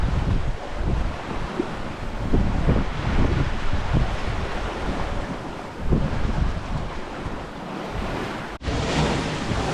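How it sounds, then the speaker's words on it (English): Strong wind of about 17 to 18 knots and breaking waves at sea aboard a sailing boat on passage from New Zealand to Tonga, a steady roaring wash of wind and surf with buffeting gusts against the microphone, no voices. "the wind's picked up, we've got like about 17, 18 knots"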